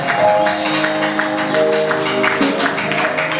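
A church congregation at a Sunday service clapping and cheering, loud and continuous with sustained musical tones beneath and voices mixed into the crowd noise.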